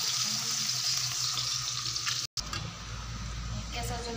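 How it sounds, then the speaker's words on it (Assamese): Onions frying in oil in a pan for a fish and bottle gourd dish, a continuous bright sizzle with a brief cut midway and low rumbling underneath. "পিঁয়াজখিনি অলপ মই ভাজি ল'ম, ৰংচোৱা কৰি ল'ম।"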